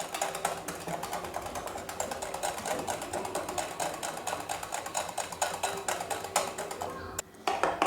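An electric hand beater whips cream with condensed milk for a creamy fruit chaat, giving a steady, close mechanical whirring buzz that runs unbroken and then cuts out briefly near the end.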